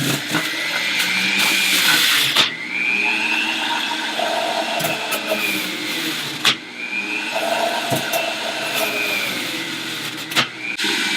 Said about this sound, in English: It's best to put the carrots in tip up. I'll turn the machine on high.